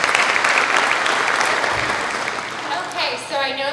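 Students and families at a Ram Fam resident-student support session give a thick round of applause that gradually thins out, and a voice begins speaking over the fading claps near the end.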